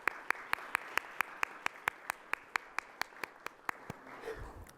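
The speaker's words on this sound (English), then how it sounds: "Let's give them a round of applause." Faint, evenly spaced claps come from the audience at a civic forum on a Columbus ballot measure, beating in a steady rhythm that thins out and stops near the end.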